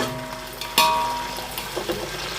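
Tomatoes frying with onions in a pan for Nellore-style prawn biryani, a steady close sizzle with a sharp spattering burst as they go in, followed by softer stirring scrapes.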